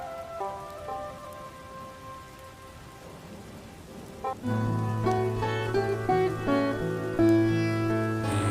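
Rain on a rainy day in a cartoon: a soft, steady patter under background music that grows louder and fuller about halfway through.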